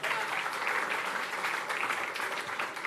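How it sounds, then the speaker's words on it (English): Town hall audience applauding in a steady, dense wash of many hands, moderately distant and even throughout. "let's give him a round of applause and thank him."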